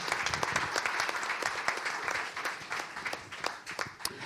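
Steady applause from a crowd, dense overlapping claps at even loudness throughout.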